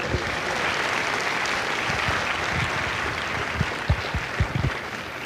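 Crowd applause at a Marine Corps recruit graduation at MCRD San Diego, a broad outdoor wash of clapping from a large audience, steady and sustained, with a few louder nearby claps toward the end.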